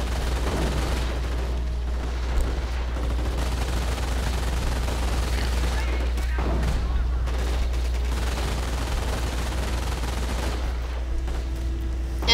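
Machine-gun fire in a video game plays as a dense, continuous rattle of rapid shots over a steady low hum, sustained throughout with only small dips. Players talk faintly in the background.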